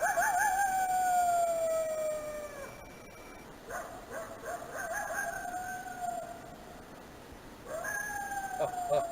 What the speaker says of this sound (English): That was an old coyote last night, howling at the moon